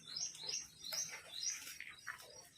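Sparrows chirp repeatedly in quick, bright bursts, fairly close, with a quiet background and no voices.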